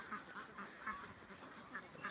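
Faint ducks quack repeatedly in the distance over a noisy outdoor background at a duck farm.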